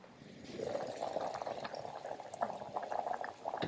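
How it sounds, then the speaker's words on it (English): Kimchi stew in a pot coming to a boil, a close, steady bubbling and gurgling that holds throughout at low volume. "turn on the fire and bring the soup to a boil"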